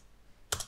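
Brief burst of computer keyboard typing while scripting a street light in Roblox Studio, a couple of quick close key clicks after a near-silent pause.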